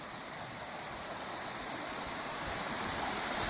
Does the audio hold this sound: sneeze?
no